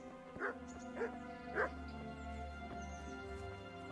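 A dog in the medieval video game Kingdom Come: Deliverance gives three quick barks about half a second apart over a steady low game ambience.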